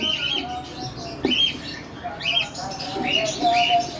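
Cockatiels kept as hand-raised baby birds in a breeding setup chirp and squawk in repeated bright calls throughout, fairly close and steady, with faint background voices underneath.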